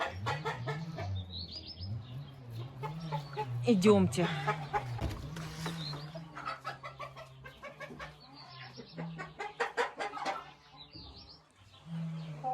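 Laying hens cluck and call around a backyard coop during egg collection, their repeated clucks coming close and clear while someone speaks over them.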